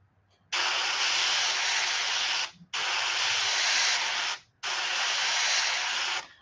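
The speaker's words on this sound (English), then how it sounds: "is just spraying on the stencil, like lining it up, and it's just overspraying onto the fin on the top" Paint sprayed through a stencil onto a crappie swimbait fishing lure, an airbrush hissing in three steady, close bursts of about two seconds each, separated by short pauses.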